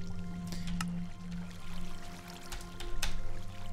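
Flowing water in the block-building game Minecraft, modded Feed the Beast pack, a soft steady pouring trickle with faint mechanical clicks and tones over it, moderately quiet and continuous with no talk.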